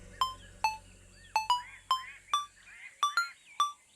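A mobile phone rings with a repeating pattern of short, bright electronic chirps, about eight pulses spaced irregularly over a few seconds. It is fairly clear, with faint low background hum early on and no talking.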